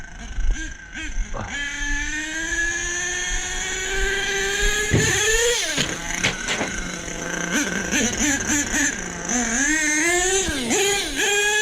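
Truck engine pulling in third gear, a steady revving drone with rising and falling pitch sweeps as the throttle opens and eases, loud and close throughout the run.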